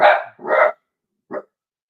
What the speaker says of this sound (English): There's a dog in the park across the street.